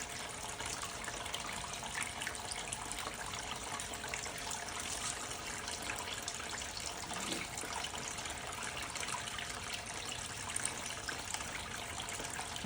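Water flowing steadily through a homemade clear sluice, a constant rushing and trickling wash that stays even throughout with no voices.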